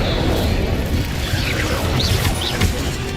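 An Incendio fire spell is cast in the Hogwarts Legacy video game: a loud, dense whooshing and crackling blast that fills the whole moment, with short bright zaps flickering above the roar.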